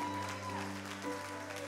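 A church congregation applauds and cheers during a Sunday morning service, a steady dense wash of clapping with a sustained sung or voiced tone running underneath.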